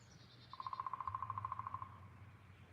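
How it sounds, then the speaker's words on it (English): A fast, even series of about twenty sharp taps, like a woodpecker drumming, rings out in the distance over steady outdoor background noise. "Sounds like a woodpecker."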